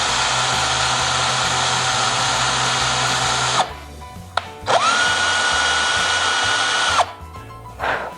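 A power drill bores a hole straight down through the centre of a wooden snowman Christmas ornament, running in two loud, steady bursts of whining motor noise, each a few seconds long, separated by a brief pause.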